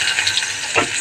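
Onions sizzling in a hot pan while a vegetable curry is being cooked, a short close burst of crackling frying with one brief louder hiss near the end.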